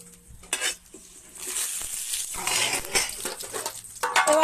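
Two bay leaves drop into hot oil already tempered with split dried red chillies and nigella seeds, giving a loud, continuous sizzle with crackling bursts and occasional stirring clinks of a utensil against the pan.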